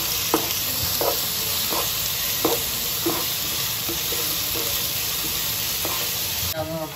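Onions frying in a hot pan make a constant loud hiss, with a regular series of spatula scrapes and knocks roughly every half second close by.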